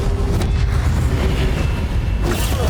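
A continuous loud rumbling, roaring burst of a fire spell being cast in the Hogwarts Legacy video game, dense and sustained with a brief flare near the end.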